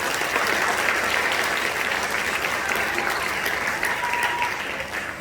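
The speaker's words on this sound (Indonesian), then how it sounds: "Tepuk tangan untuk kita semua." An audience at a rupiah awareness event breaks into dense, continuous applause, a full crowd clapping steadily throughout and easing off slightly toward the end.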